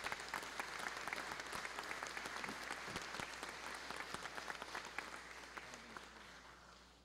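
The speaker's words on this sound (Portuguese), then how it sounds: "do Conselho Consultivo a que peço uma salva de palmas" Steady applause from an audience fills the room at a solemn ceremony honoring Santos Dumont, dense even clapping that holds for several seconds before slowly tapering off.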